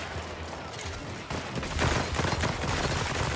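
Gunfire in the horror shooter After The Fall, dense rapid bursts of automatic fire that build in intensity with clattering overlapping shots.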